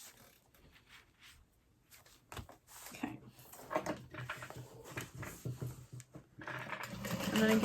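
Sewing machine stitching a basting seam on a barrel bag, a quiet irregular whir of short runs that grows louder and more continuous toward the end, with small handling clicks between.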